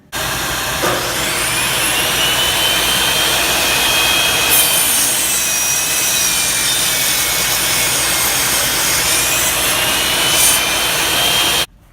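A saw cuts a 45-degree angle through a wooden 2x4 while a picnic table is built, a loud, steady, high-pitched whine of a power saw running nonstop for about eleven seconds before stopping.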